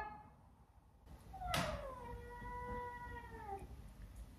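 A house cat gives one drawn-out, wavering meow close by, starting after a brief soft sound and trailing off quietly indoors.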